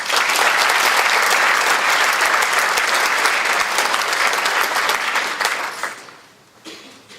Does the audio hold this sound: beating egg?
no